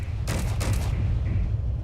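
Automated assault turrets in a video game fire off a short burst of rapid gunfire, two or three loud, close blasts packed into under a second that then fade into a low rumble.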